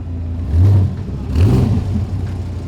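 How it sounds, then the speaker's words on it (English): A McLaren Senna GTR race car on a racetrack rises to two loud, low engine surges as it revs past, with a steady rumble between the bursts and no voices. "So the McLaren Senna GTR is ripping it around the track right now."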